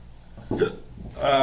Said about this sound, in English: It gave me the hiccups again.